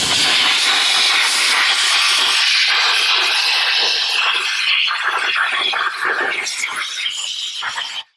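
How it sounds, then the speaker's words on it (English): Compressed air blasts loudly and steadily around the port injectors of an Audi RS3/TTRS engine, a harsh close hiss that tapers slightly before cutting off abruptly at the end. "I like to blow some compressed air in where the injectors are"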